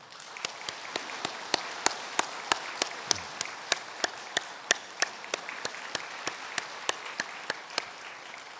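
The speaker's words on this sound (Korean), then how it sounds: "여러분들께서 큰 박수로 환영해 주시면 감사하겠습니다" Steady applause from a church congregation during a Sunday service, continuous and even, with individual claps popping out clearly throughout.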